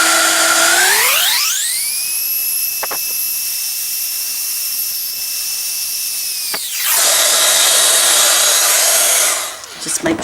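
A heat tool warms embossing powder, its fan motor rising steeply in pitch to a loud, steady high whine, dropping away, then returning noisily near the end.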